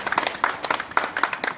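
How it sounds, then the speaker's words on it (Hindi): A crowd applauds at a local civic gathering honouring a mayor, with brisk, close hand claps in an uneven patter over a short burst. "आप ताली बजाओ भाई"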